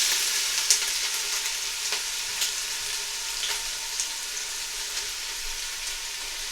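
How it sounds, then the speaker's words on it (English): Onions fry in hot oil in a pan for a Punjabi aloo gobhi dish, giving a steady, close hiss and crackle with occasional stirring clicks and no voices. "So I think the oil is nice and hot now. Perfect. So all the onions go in."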